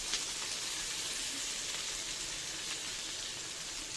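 Tomato, green chili, red chili powder, salt and turmeric frying in a pan as the base for a fish curry, giving a constant, dense crackling sizzle at close range with no pauses and no talking.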